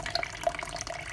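Water pours into a sourdough starter during feeding, a brief close splashy trickle lasting about a second, steady and soft.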